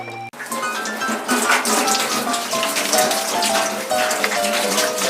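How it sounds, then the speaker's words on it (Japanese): Okatsune pruning shears scrubbed with a scrub brush under running water, a steady close gush of water with brushing texture running throughout after a brief start. "もうたわしでただの水洗いです。"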